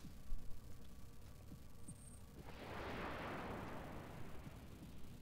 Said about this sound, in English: Begin with the salvos.